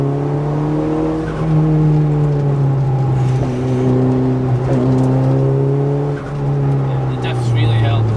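A Nismo Nissan Pulsar GTI-R turbo hatchback pulls hard out of a corner, its engine note droning loud and steady as revs climb and dip, heard from inside the car under continuous talk.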